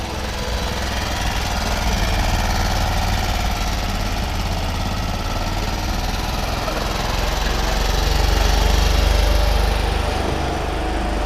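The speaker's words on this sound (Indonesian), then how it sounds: "BMW Isetta klasik, dia tetap mesinnya nyala dan jalan keliling-keliling showroom ini" The engine of a classic BMW Isetta runs continuously as the small car drives around inside a BMW museum showroom in Germany, a loud, steady, rough putter that swells slightly toward the end.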